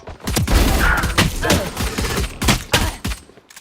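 Rapid bursts of gunfire in a multiplayer shooter video game, loud and close with dense repeated shots, some in quick volleys, while a player speaks over it.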